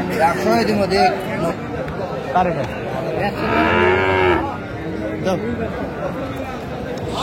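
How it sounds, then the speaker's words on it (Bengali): A Sahiwal bull calf at a cattle market in Faridpur gives one loud, drawn-out moo amid the busy chatter of a crowd, with people talking nearby throughout. "শাহিওয়ালের ষাঁড় বাচ্চা আমরা দেখছিলাম,"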